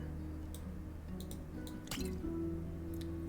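Drink being poured in the tavern video game Tavern Talk, a soft liquid trickle with small drip and squish effects rising near the end, steady and close over a low background hum.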